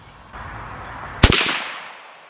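A single 350 Legend rifle shot at a 100-yard range: a loud, close, sharp crack over low outdoor background, followed by a rolling echo that fades over about a second.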